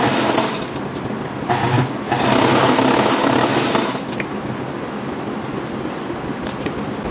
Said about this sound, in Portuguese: a gente vai só overlockar esses pedacinhos aqui